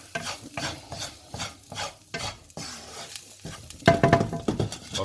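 Red onions are stirred in a non-stick pan with a soft sizzle, a spatula scraping in repeated strokes, and a louder clattering stir near the end.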